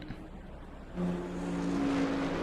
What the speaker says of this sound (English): Wave goodbye briefly, folks, to the beautiful sound of engine noise.